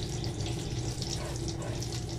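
Cumin seeds sizzle steadily in hot ghee in a pan, a dense continuous crackling hiss close by with no pauses or voices.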